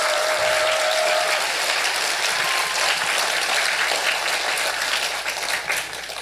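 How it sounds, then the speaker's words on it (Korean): An audience at a Buddhist temple gathering applauds continuously, a dense, even wash of clapping that holds steady and tapers slightly toward the end. "여러분 박수 한번 쳐주세요."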